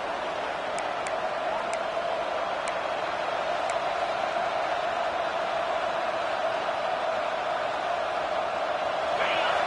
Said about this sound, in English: listen to this crowd noise